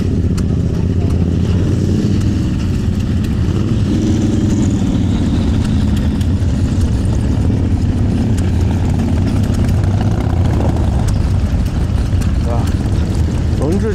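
Motorbikes arriving at a club crank-up event, a steady loud engine rumble with idling and revving mixed into outdoor crowd noise and talk.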